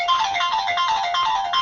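A phone ringtone plays on its own, a bright repeating electronic melody with steady, evenly spaced tonal notes held at a constant level throughout.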